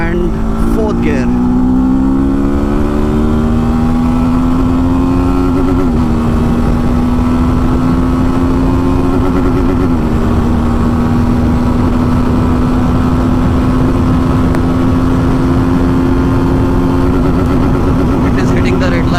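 A TVS Apache RTR 310 motorcycle accelerates hard through the gears, its loud engine note rising steadily with brief dips at each upshift before climbing on toward the redline, with wind noise throughout.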